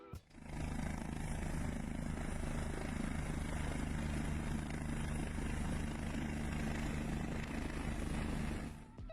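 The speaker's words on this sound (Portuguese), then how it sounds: "Mas como pousar um helicóptero na encosta de uma montanha?" A rescue helicopter landing on a mountainside, its steady, heavy rotor thrum and engine whine filling the whole clip, loud and close, with no voices.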